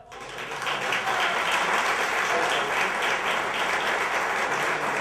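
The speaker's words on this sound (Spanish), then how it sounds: "Embajadores culturales que reciben un aplauso" Audience at a municipal ceremony honoring a folk music duo as cultural ambassadors breaking into applause, swelling in quickly and then holding as a dense, even roar of many hands clapping, with no talk.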